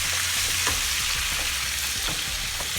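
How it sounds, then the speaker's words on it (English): Chicken sizzles steadily in hot frying oil, a constant close crackle with occasional louder pops and stirring sounds, no voices. "Chicken frying in a real life."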